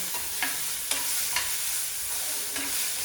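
Tomatoes sautéing in a pan for veg poha, a steady close sizzle with a few sharp spoon scrapes against the pan, no talk.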